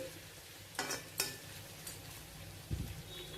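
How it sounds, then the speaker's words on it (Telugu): Chicken fries in a pan over medium-high heat with a faint, quiet sizzle, broken by a few sharp scrapes and clinks of stirring. "మంచి కలర్ వచ్చే వరకు ఫ్రై చేసుకోవాలి"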